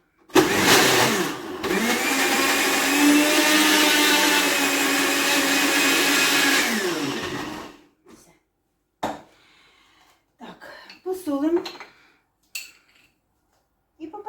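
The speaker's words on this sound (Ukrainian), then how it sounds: "ми блендером це зробимо." A kitchen blender whirs loudly for about seven seconds, its motor pitch holding steady before spinning down, followed by scattered clinks and brief talking.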